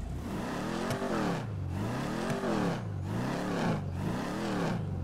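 Car exhaust in GTA Online revving repeatedly, the engine note rising and falling in steady waves of about four cycles, loud and close with no talk over it.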